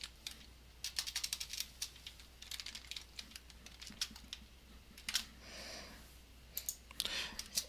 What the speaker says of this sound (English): So I'm going to type dim input phrase